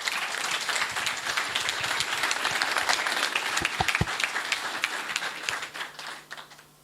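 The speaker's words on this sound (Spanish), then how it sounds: "Fuerte el aplauso para Elvia." A crowd applauds at a 75th-anniversary event of a beverage workers' federation as a union leader is introduced, steady clapping with a few sharp individual claps standing out before it thins and fades at the end.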